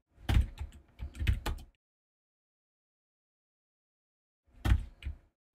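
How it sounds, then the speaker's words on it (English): Keystrokes on a computer keyboard while entering a short command: two quick bursts of clicky taps, a pause of silence, then a final short burst, close and clear with no talking. "If I type in the right thing, ln minus s, okay, and then I do it"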